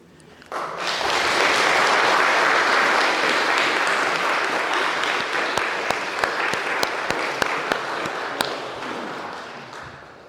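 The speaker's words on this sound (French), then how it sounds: "le travail bien fait mérite quelques applaudissements à nos artisans" A crowd at the inauguration of a renovated temple applauds the artisans in a sustained, even round of clapping, with a few sharper individual claps standing out near the end before it fades.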